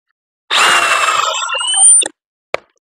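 A $99 Craftsman cordless drill with a twist bit drives a screw in one steady whirring burst of about a second and a half, close and loud, then a single sharp click follows a moment later.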